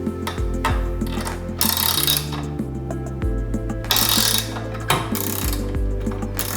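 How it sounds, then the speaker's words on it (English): Bolts being tightened with a spanner and Allen key while assembling a TentBox GO, heard as steady, loud mechanical ratcheting and clicking throughout, close up, with no speech. "Tighten the bolts securely using the spanner and Allen key from bag A."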